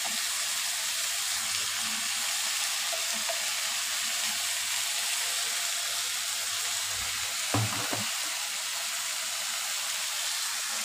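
Ginger, garlic and green chilli paste fries in a pan with a constant soft sizzling hiss, near and even, broken by a brief clatter of stirring.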